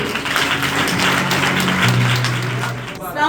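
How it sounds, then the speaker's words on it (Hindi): Audience applause for a children's chapel group at a Christmas youth program, a dense wash of clapping with voices talking and calling out over it throughout. "तो प्लीज जोरदार तालियां चिल्ड्रन चैपल के लिए"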